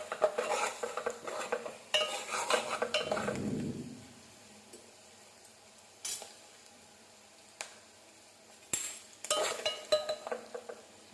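A spoon scrapes and stirs around a metal pan of herbal hair oil frying green, with clinks and knocks against the rim and a soft sizzle underneath, in irregular close bursts with quiet gaps.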